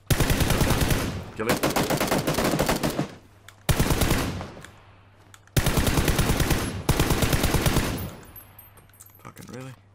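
Automatic rifle fire in PUBG rattles out in several long, loud rapid-fire bursts separated by short pauses, with a brief spoken phrase in between.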